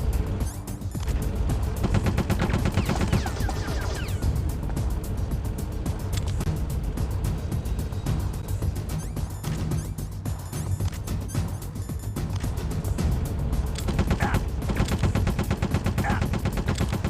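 Gunfire in the video game Metal Gear Solid: The Twin Snakes, a dense, continuous barrage of shots under loud game sound effects, sustained at high level throughout.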